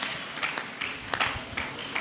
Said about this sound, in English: Clap your hands for yourself.